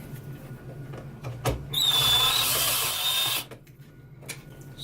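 A drill fitted with a Wolfcraft 90-degree screwdriver adapter and magnetic hex bit whines in one steady burst of about one and a half seconds as it backs out a screw, with soft clicks and knocks before and after.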